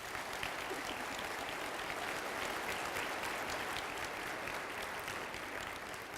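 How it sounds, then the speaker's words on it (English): A large crowd at a welcome day for accepted students gives a steady, continuous round of applause for honors students, heard slightly distant and even in volume throughout. "let's give them a round of applause"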